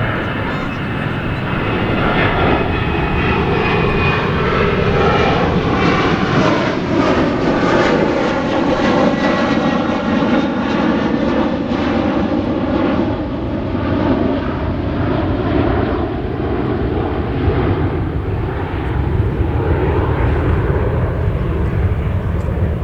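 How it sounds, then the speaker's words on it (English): A fixed-wing airplane passes overhead, its engine drone loud and steady throughout, the pitch slowly shifting as it moves across the sky. "got another plane flying"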